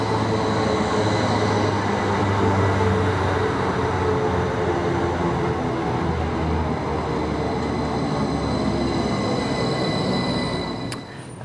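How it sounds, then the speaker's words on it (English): A train rumbles steadily past a station on the Wharfedale Line at close range, a loud continuous roar of wheels on rails that eases slightly near the end. "Here's a train."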